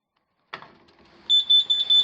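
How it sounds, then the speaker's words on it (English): A brief click, then a loud, piercing smoke alarm test sounds in several rapid pulsing beeps, close by. "Because that smoke alarm doesn't work."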